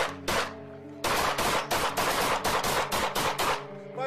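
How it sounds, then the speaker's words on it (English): Rapid bursts of gunfire from a police incident, loud and close, with several volleys of shots fired in quick succession and short pauses between them, with no voices over the shooting. "5-7, shots fired."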